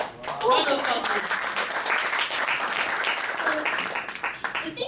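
A conference audience applauds for a chess teacher and SEA Games bronze medallist, a dense, steady clapping that swells quickly and holds at an even, fairly loud level for the whole stretch.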